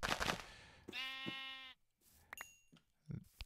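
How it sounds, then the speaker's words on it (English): A Minecraft sheep gives a clear, wavering bleat, loud and close, followed by a couple of short clicks and punching thuds. "these poor sheep"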